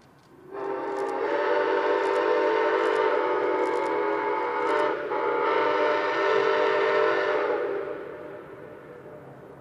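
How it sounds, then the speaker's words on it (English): Steam locomotive 261 sounds its whistle as it crosses a channel in a city, a long, loud chord-like blast with a brief break midway, then trailing off into echo. "261 traverses over the channel, as its whistle echoing throughout the city acts as a solemn reminder of a bygone era"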